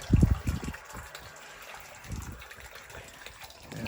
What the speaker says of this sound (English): That's the first water through the pipe.